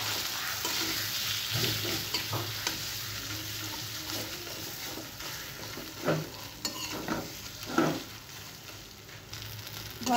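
Potato and pointed gourd bharta being stirred in hot oil in a pan, a steady close sizzle with scraping strokes of the spoon repeating throughout.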